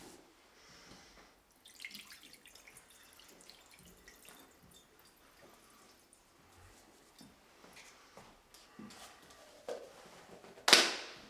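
Water from a faucet runs into a sink, with a low steady splash and drips and some handling noise, ending in a louder burst of flow near the end.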